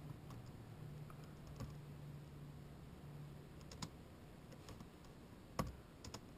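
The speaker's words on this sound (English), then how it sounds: "I'm just going to type in" Typing on a computer keyboard at a desk: sparse, faint clicks and taps scattered irregularly over a quiet background hum, with a few sharper keystrokes standing out.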